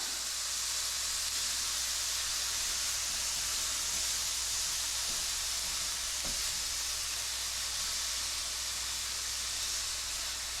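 A thin onion burger patty searing in a hot pan for a crusty first side, a soft, even sizzling hiss that holds steady throughout, with one small tap midway.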